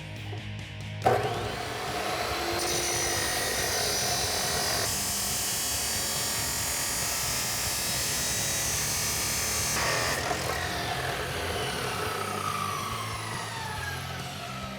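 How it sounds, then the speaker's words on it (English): A chop saw fitted with a metal-cutting blade slices through pipe during a Roush Performance Power Pac install on a 2018-2019 Ford F150 5.0L, a loud, steady high-pitched grinding whine lasting about nine seconds before winding down. "I have it in my chop saw with a metal blade"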